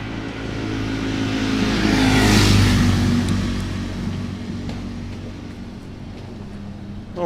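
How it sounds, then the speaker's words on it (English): A bunch of jet skis pass by out on the water off Charleston, their low buzzing engines swelling to a peak and then fading, steady and moderately near. "More farting noises out on the water because we've got a bunch of jet skiers going by"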